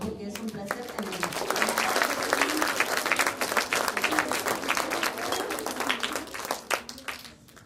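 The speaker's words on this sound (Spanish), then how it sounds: "vamos a recibirlo con un fuerte aplauso porque es un placer tenerlo" An audience applauds to welcome a visiting novelist at a school book event: a sustained, dense roomful of clapping, moderately loud, with some voices mixed in.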